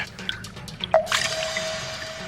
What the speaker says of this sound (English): Just one little drip at a time, one little drip at a time.